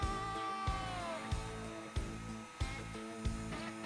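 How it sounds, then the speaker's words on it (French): A router fitted with a roughing bit milling an electric guitar neck, a steady high-pitched whine with a bright tonal edge, broken by repeated cutting bursts about every half second to second as the bit bites into the wood. "fraise à dégrossir pour enlever le plus gros"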